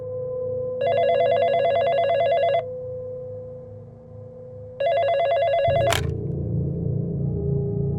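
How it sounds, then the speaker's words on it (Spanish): A telephone rings in two long bursts of a bright electronic trill, separated by a pause, followed by a click as the handset is lifted and a change in room tone. "cuando sonó el teléfono"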